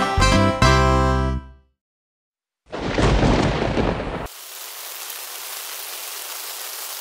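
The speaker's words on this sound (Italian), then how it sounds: "Oh, piove!" Steady rain hissing on a surface in a children's Halloween nursery song, coming in after a burst of music and a loud rumbling crash like thunder, then settling into a continuous close downpour.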